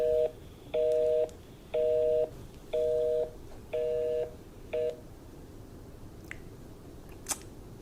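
Telephone keypad dialing tones: six quick, evenly spaced DTMF beeps, the last one shorter, heard quietly and alone, followed by near silence with a faint click.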